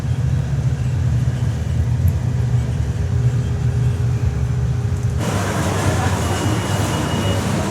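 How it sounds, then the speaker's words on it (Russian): Bus ride on the road to Montevideo, Uruguay: a steady, loud low engine drone and road rumble runs throughout, with a sudden shift to brighter, noisier wind and road hiss partway through. "Нас торжественно загрузили в автобус, и мы едем в Монтевидео"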